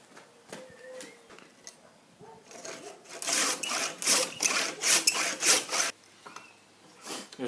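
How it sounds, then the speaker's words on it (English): A hand saw deepens a kerf in wood while an old splitting maul is restored. A few scattered scrapes and taps lead into a run of loud, rhythmic back-and-forth saw strokes, close by, then a couple more strokes after a short pause. "I need to deepen my kerf a little bit."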